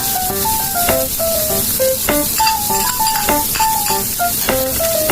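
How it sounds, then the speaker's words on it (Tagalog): Spam sizzling in a pan without added oil, a steady hiss under scattered clinks and scrapes of a utensil against the pan, with background music playing throughout. "unahin ko munang lutuin yung spam na walang oil"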